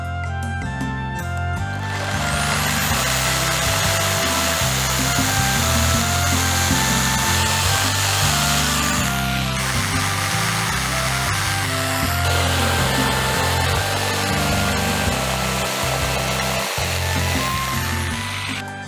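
A jigsaw cuts wood pieces for a garden table, its motor buzzing loud and steady for well over fifteen seconds with a harsh rasping blade and small pitch shifts as the cut goes on.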